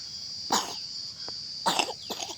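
Several sharp coughs in quick bursts, fairly close, with a steady high-pitched tone humming in the background.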